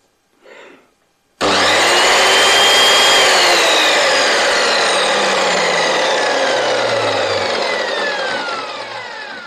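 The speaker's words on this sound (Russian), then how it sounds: "Запускается пила плавно, без рывков" After a brief faint noise, a 1.5 kW Patriot CS186 circular saw starts up smoothly and cuts loudly into wood, a sustained whining rasp that gradually eases off.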